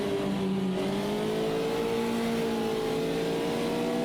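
Race car engines drone steadily at high revs, several tones sliding and overlapping as the cars barrel toward a braking zone during an endurance race, loud and continuous with no voices.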